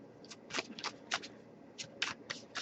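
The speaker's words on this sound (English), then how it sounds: "what I do is I'll just shuffle for a while" A deck of oracle cards is shuffled by hand in a quiet room, giving soft, close riffling bursts in an irregular rhythm of quick papery flutters separated by brief pauses.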